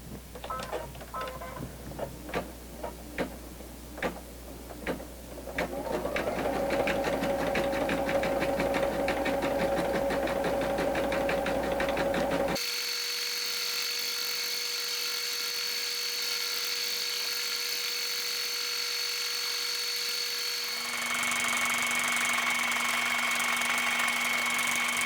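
An embroidery sewing machine runs a zigzag tack-down stitch over the edge of an appliqué, its steady rapid needle whir continuous and close, pitch shifting as the stitching speed changes.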